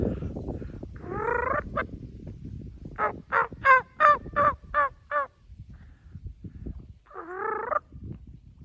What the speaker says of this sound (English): That's a little feeding purr they're doing there.